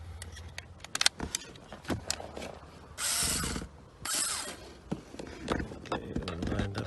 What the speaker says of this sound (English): Now we get our screwdriver.